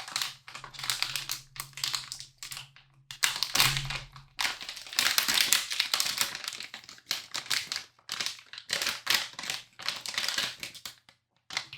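A Gigabyte GC-WBAX210 WiFi 6 card being unpacked, with close, bursty plastic crinkling and crackling handled in irregular clusters separated by short pauses, fairly loud and with no talking.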